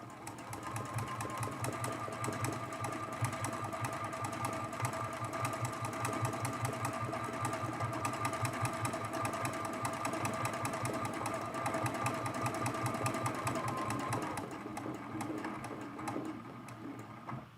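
Sewing machine running steadily at close range, stitching down appliqué and quilting through the layers of a mug rug, a fast even mechanical chatter that holds for about fourteen seconds before easing off.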